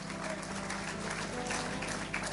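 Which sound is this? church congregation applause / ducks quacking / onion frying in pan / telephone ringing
church congregation applause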